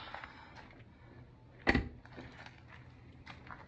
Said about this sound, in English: now the door didn't close all the way.